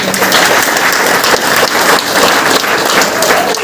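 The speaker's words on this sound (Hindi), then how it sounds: "एक बार अपने लिए जबरदस्त ताली बजा दीजिए।" Loud, close applause from a crowd at a large sales meeting, a continuous roar of many clapping hands with no break.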